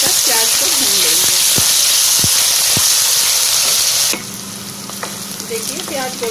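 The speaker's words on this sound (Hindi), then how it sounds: "इसे हम अच्छे गोल्डन ब्राउन होने तक प्याज को भून लेंगे।" Sliced onions and green chilies sizzle loudly in hot oil with cumin and mustard seeds, a dense steady hiss with stirring scrapes that drops suddenly to a quieter sizzle partway through.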